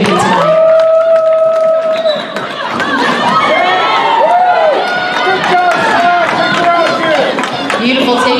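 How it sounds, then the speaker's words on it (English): A loud, steady crowd roars and cheers with applause at a roller derby bout, honoring the penalty trackers in the penalty box; voices and shouts run throughout. "Let's give them a round of applause."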